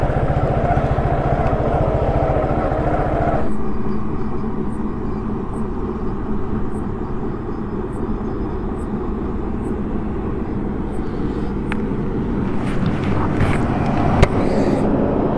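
A motorcycle engine idles steadily after being started, a loud continuous close rumble throughout with faint high ticking and small noises over it, outdoors with no one talking.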